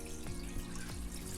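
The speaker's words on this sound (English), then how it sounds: "And I will add water to the pot." Water poured into a cooking pot for Liberian fried okra, a soft steady trickling stream with a few gentle splashes, quiet and close.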